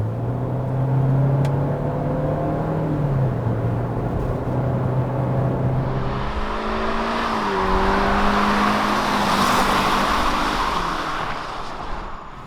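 A 2020 Hyundai Venue subcompact SUV with a 123-horsepower engine driving in town, a steady engine hum whose pitch shifts as it changes speed, with road noise rising partway through and no talking.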